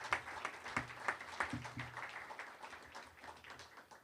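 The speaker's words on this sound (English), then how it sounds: "Let's give President Gash a round of applause." A university audience at Pepperdine gives a round of applause for the school's president, a faint, distant patter of clapping with a few sharper individual claps early on, then thinning out.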